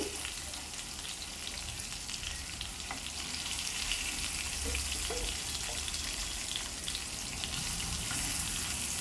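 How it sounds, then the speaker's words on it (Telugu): Pieces of fish for fish biryani fry in hot oil in a pan, giving a steady, dense sizzle that stays even and close for the whole stretch, with no voices over it. "ఇది ఒక 2 మినిట్స్ పాటు దీన్ని కూడా ఇటువైపు కూడా ఫ్రై చేసుకుంటున్నాను."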